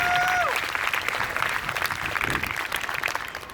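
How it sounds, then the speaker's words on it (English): Crowd applause at a people's town hall, loud at first with a brief high whistle, then steady clapping that thins gradually as it fades. "I want you all to give him an extra round of applause"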